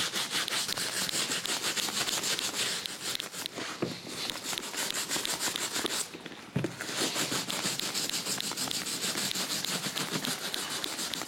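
Stiff brush scrubbed steadily along the welt and stitching of Red Wing leather boots, a continuous close-up bristly rubbing with a brief pause midway.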